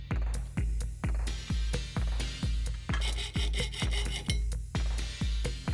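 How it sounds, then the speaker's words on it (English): Hand filing of an aluminium tube being shaped into a lightsaber blade guard, a steady series of about a dozen close rasping strokes in even rhythm, each stroke a rough scrape with a sharp start. "After a lot of filing,"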